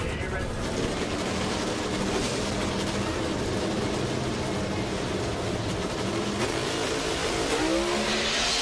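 NHRA Pro Stock drag race cars launching and racing at the Spring Nationals, a loud continuous engine roar heard from a distance with a commentator talking over it.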